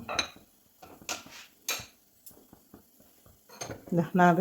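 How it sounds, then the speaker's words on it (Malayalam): Banana payasam (pazham pradhaman) with coconut bits and nuts is stirred in a pot, giving scattered scrapes and clinks of a spoon against metal in irregular bursts, with a louder clatter near the end. "അതിനുശേഷം ഒന്ന് ഇളക്കി കൊടുക്കാം."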